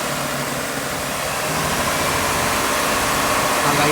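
A 2004 GMC Envoy 4.2L engine holds a steady rev around 1500 RPM, a continuous broadband drone with a faint rise in loudness toward the end, close and without voices.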